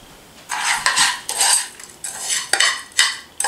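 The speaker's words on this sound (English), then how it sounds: "My 2 tablespoons of butter mixed in with my panko breadcrumbs" A utensil clinks and scrapes against a bowl in short, uneven strokes while butter is stirred into panko breadcrumbs, close up and with no talking.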